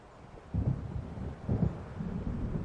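Low, rolling thunder from an approaching storm in Alan Wake Remastered, out over open sea where waves wash, swelling in two heavier rumbles around a steady windy background with no voices.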